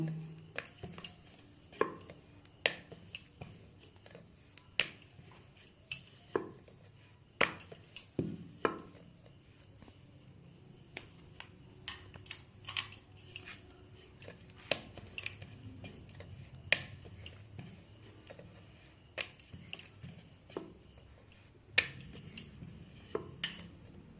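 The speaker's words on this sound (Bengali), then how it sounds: "এবার আমি কচুরিগুলো বেলে নেব।" Stuffed pea kachori dough being rolled out produces irregular light knocks and clicks of a rolling pin against a board, soft and close in a quiet kitchen.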